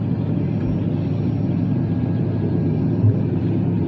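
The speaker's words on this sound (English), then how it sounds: "Sorry, I'm going to stop and wait for that car to go." A car passes on a narrow mountain road at Healy Pass in Ireland, heard as a low steady rumble of engine and tyres that holds throughout, with a brief bump near the end and no talking.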